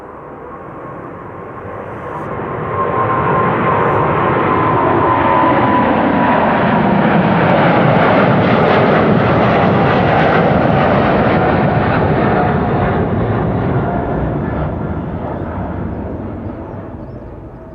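Airliner PH-BQB, a 22-year-old jet at Amsterdam Schiphol Airport, roars past in a broad engine swell that builds over a few seconds, holds loud and steady, then slowly fades, heard alone.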